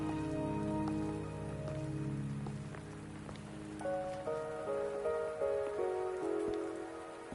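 Steady rain patters down in a Wuthering Waves game scene, a continuous wash of drops under tonal music.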